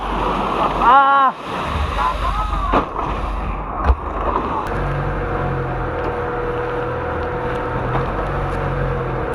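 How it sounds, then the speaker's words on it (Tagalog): Large sea waves surge and wash around a boat caught between two ships, a loud rushing, crashing roar with a brief whooping shout early on, then steady churning water noise. "Ang lalaki ng alon mga master."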